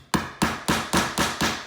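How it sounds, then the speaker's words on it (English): A steel hammer drives a finishing nail into a wooden baseboard with six evenly spaced, sharp strikes, each ringing briefly, close and clear with no talking. "You just take and hammer it in"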